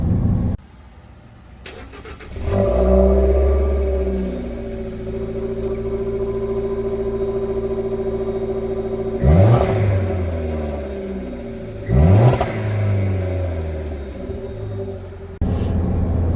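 A car nicknamed Lily, still on its stock downpipe before a catless swap, cranks and starts, then settles into a loud steady idle broken by two sharp throttle blips and a final rev, heard close with no voices.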